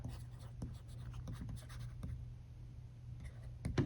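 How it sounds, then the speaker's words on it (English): A marker nib scratches across the textured screen of a reMarkable tablet in short, steady writing strokes, close and quiet, with a constant low hum underneath. "I can switch to my marker and write"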